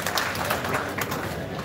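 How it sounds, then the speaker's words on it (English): Lecture audience applauding for an ambassador, a dense, steady wash of clapping that fills the short moment at moderate loudness, with no gaps. "Big round of applause for such a great personality present with us."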